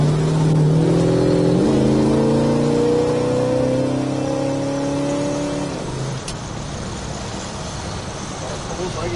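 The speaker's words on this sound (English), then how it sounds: "Nice sounding Roadrunner." A 1969 Plymouth Road Runner V8 revs while driving, its deep rising engine tone climbing through the gears for several seconds, then easing into steady road and wind roar as it cruises.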